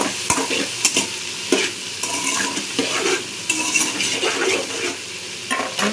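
Vegetables and soybeans fry in a hot pan for a vegetable biryani, with steady close sizzling and repeated scraping stirs throughout and no voices.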